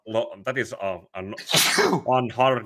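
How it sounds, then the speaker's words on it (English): A person speaks, then lets out one loud, sharp sneeze in the middle, and goes right back to talking. "Oh boy, I've been sneezing."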